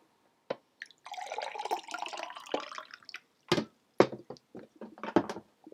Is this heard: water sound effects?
yes